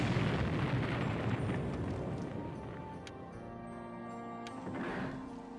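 A big cannon fires in the game The Guild with a broad, rumbling blast that decays slowly, then a second booming burst swells near the end, with no voices over it.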